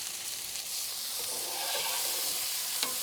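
Vegetables sizzling in a pan during a polenta and vegetable casserole recipe, a steady bright hiss that swells slightly as they are stirred, with a brief clink near the end.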